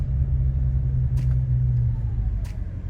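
2013 Dodge Charger R/T in sport mode, a deep, steady engine rumble held close and fairly constant, with a couple of faint brief clicks on top.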